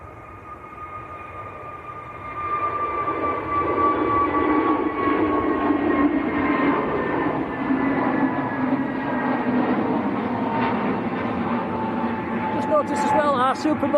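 EasyJet airliner bound for Sharm el Sheikh starting its takeoff roll at Manchester Airport, a steady jet engine roar building after two seconds and holding loud and continuous, with someone talking over it throughout.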